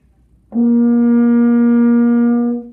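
A single sustained F played on an F horn, first valve, starts cleanly and holds steady for about two seconds, warm and rich in overtones, played alone.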